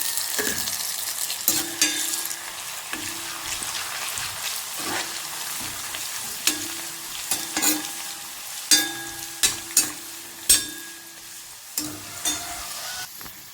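Continuous crackling sizzle of pearl spot fish frying in hot oil, with repeated scraping and clinking strokes of a utensil against the pan.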